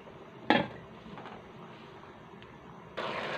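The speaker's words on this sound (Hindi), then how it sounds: "इसका हम ढक्कन थोड़ी देर के लिए बंद कर देंगे" A metal lid clanks down onto a cooking pot of beef pulao, one sharp close clatter followed by a quieter simmering background and a rising hiss near the end.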